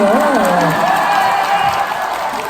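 A big outdoor crowd at a concert in Daejeon claps and cheers continuously in a loud wash, while a voice rises and glides over the top at the start.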